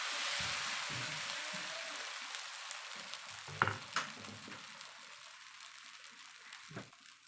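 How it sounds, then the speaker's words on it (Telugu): Dosa batter cooks on a hot griddle pan in a home kitchen, giving a soft, steady sizzling hiss broken by a few light clicks and taps from a utensil. "ఇంకా ఇక్కడైతే దోశ వేసేకైతే పెనం పెట్టుకున్నాను."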